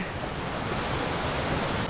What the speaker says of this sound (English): This waterfall is beautiful at the moment. There's a good bit of water in it.